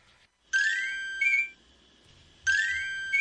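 A phone's text message notification tone chimes twice, bright melodic bursts close by with a quieter repeat, ending in near-silence.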